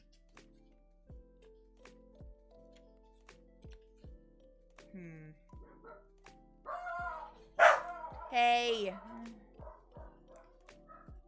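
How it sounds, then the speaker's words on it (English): Dogs bark in short bursts behind the sound of a computer keyboard being typed on, with sharp rhythmic clicks running throughout; one person calls out briefly while the dogs are barking. "Sorry about the dogs."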